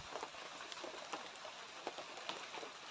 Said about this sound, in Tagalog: yung patak ng ulan